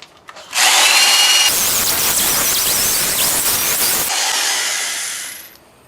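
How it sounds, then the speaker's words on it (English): A loud power drill whirs steadily for several seconds with a harsh scratchy grinding of a wire wheel against the threads of a Ford Explorer axle shaft, close up, then winds down. "I'm going to clean up the threads on this axle shaft with the wire wheel on this drill"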